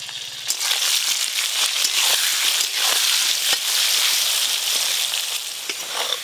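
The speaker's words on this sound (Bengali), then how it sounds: "সর্ষের তেল, মাছের আলুগুলো ভেজে নেব।" Potatoes frying in hot mustard oil for a river fish curry, giving a loud, steady sizzle with crackling pops throughout and no voices.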